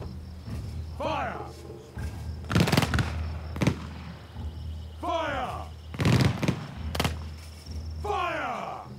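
Gunfire in Shadow Tactics: Blades of the Shogun at Sunpu Castle: sharp, loud cracks, some in close pairs, spaced a few seconds apart, with character voices speaking in between.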